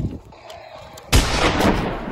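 Gunfire erupts in a winter war battle scene, a sharp loud burst after a quieter stretch, followed by sustained dense shooting and rumbling blasts.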